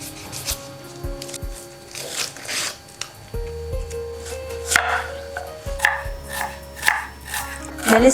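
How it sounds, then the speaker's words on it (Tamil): A knife chops onions and tomatoes on a board in quick, close strokes, with irregular clusters of cuts separated by brief pauses. "இப்போ வெங்காயம் தக்காளி கட் பண்ணிக்கலாம்."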